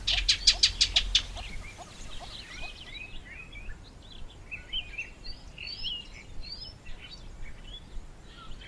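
Birds in acacia trees, with a rapid run of loud, sharp repeated calls up close at first, then scattered lighter chirps and whistles from several birds across the rest of the clip.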